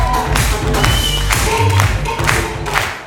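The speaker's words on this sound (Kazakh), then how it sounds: "Құдаларға бір достойны шапалақ қойшы" A wedding crowd gives the in-laws a round of applause, a short burst of scattered hand clapping close by, uneven taps overlapping for about three seconds and fading at the end.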